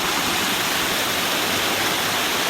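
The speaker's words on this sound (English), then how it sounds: "Water's kind of constant, and the rain's picking up a little bit." Rushing water at a collapsing creek dam during Hurricane Helene rain, a loud, dense, constant roar filling the whole moment with no pauses or voices.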